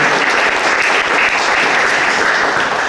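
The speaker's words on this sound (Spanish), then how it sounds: "Te recibimos con un gran aplauso." Loud, dense applause from an audience welcoming a panelist at a poetry and criticism panel, continuous clapping throughout with no talk over it.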